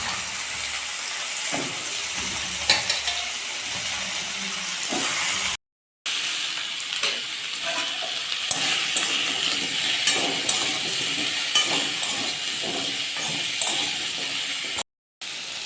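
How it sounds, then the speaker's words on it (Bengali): Jackfruit pieces fry in oil already used for fish, giving a continuous hissing sizzle with occasional light stirring clatter, close and moderately loud, briefly cut to silence twice. "আলাদা করে এঁচড়গুলো ভাজবো।"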